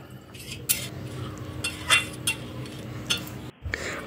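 A spoon stirring chana dal into fried spices in a metal pot, with sharp close scrapes and clinks at irregular intervals over a faint sizzle.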